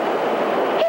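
New York subway train rushing beneath the street, a brief, steady rumbling whoosh heard from above with a faint higher whine near the end.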